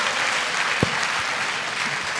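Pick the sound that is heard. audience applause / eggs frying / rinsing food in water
audience applause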